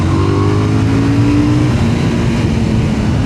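A 2026 KTM 990 Duke engine roars loudly and steadily under acceleration, with a rising drone and strong wind rush up close, no voices.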